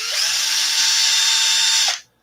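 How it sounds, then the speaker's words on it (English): Power drill boring into an RC car's front differential case, an Arrma 6S, a steady close high-pitched whine for about two seconds that cuts off abruptly. "I'm just gonna drill in this thing."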